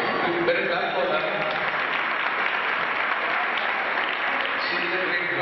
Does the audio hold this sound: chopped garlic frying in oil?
no